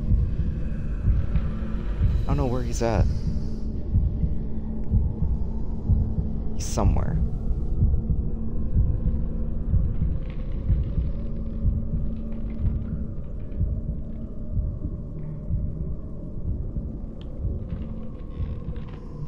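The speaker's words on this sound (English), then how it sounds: "Our heartbeat or its heartbeat." Low throbbing heartbeat in the video game Bendy and the Ink Machine, a steady rumbling pulse running throughout under voices talking, with brief higher sounds early on.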